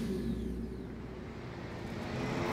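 Moped engine in the video game Enslaved: Odyssey to the West, a steady low motor drone and rumble that holds at an even, moderately loud level throughout, with no talking.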